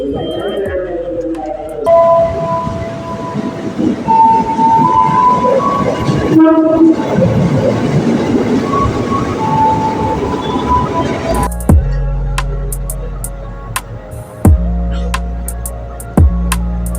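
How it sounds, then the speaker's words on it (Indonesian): A Jakarta commuter train ride on the line toward Manggarai station, with a loud steady rumble, a long train horn, a brief mid-clip burst of noise and rhythmic clunks over the rails near the end. "Aku naik kereta dan transit di stasiun Manggarai sebelum akhirnya melanjutkan perjalanan menuju stasiun Juanda."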